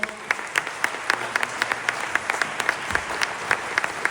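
An audience at a film festival award presentation claps steadily, the applause close and continuous, with a voice briefly audible under it.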